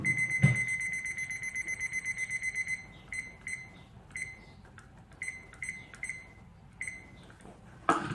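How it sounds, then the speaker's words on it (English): A timer beeping while a polymer stamp cures for thirty seconds under a lamp. A fast, steady run of high electronic beeps comes first, then faint scattered bleeps and light handling sounds, close by and quiet. "so I just need to get my timer out."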